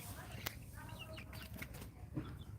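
Chickens on a small Bangladeshi poultry farm cluck in low, scattered bursts amid a busy, noisy background, with a few wing flaps and brief murmured talk close by.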